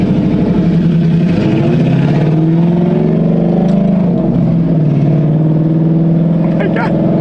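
An S197 Ford Mustang with its exhaust dumped roars loudly and close, a raw, droning engine note that holds steady with slight rises and dips in pitch for the whole stretch.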